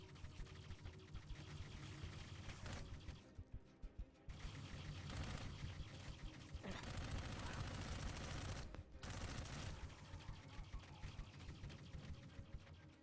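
Sustained gunfire against enemies in Dark Void rattles almost without pause, dense overlapping shots forming a continuous rough roar with a couple of brief breaks, faint overall but steady throughout.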